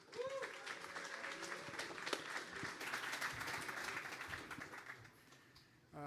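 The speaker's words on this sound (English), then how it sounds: "Please give them a big round of applause." An audience at the ETHGlobal Cannes 2025 hackathon closing ceremony applauds a finalist demo team as they come on stage. The clapping is steady and moderately loud, dense and continuous for about five seconds, then tapers off.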